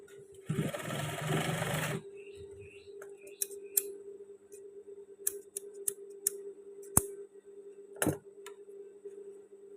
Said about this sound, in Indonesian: sekarang kita awali menjahit tali sabuk pas bagian sebelah sini